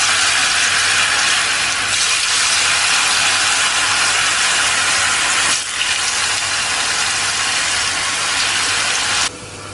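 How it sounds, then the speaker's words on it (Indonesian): Diced tofu fries in hot oil in a home kitchen, giving a loud, continuous, even sizzle with a steady hiss that holds almost the whole time before dropping slightly at the very end; no voices are heard. "kita akan goreng terlebih dahulu tahunya"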